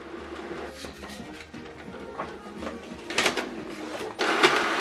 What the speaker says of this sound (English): So now it's going to print it out.